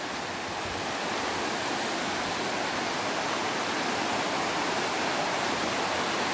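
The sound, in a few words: Dev Kund waterfall, water falling forcefully in monsoon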